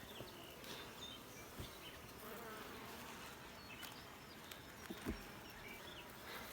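Honey bees buzz in an open hive during a beekeeping hive check. A continuous, close buzzing hum carries a few louder passing drones and faint handling knocks, and no one speaks.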